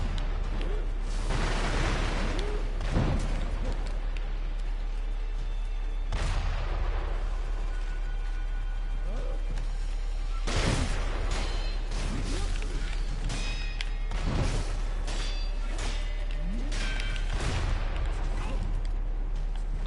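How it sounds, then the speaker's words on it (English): In the Sekiro video game, a modified hand cannon fires several heavy booming blasts at irregular intervals, each with a rumbling tail, set over a steady low hum with a voice talking over the action. "Looks like he's fighting with some kind of modified hand cannon."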